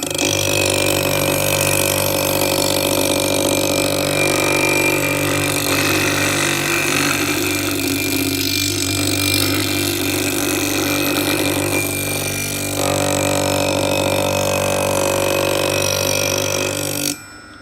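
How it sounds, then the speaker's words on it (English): CBN grinding wheel sharpening Robland X31 planer blades, a loud continuous motor hum with a steady grinding whine that runs without pause, dipping slightly near the middle and cutting off just before the end. "the CBN wheel grinds really cold"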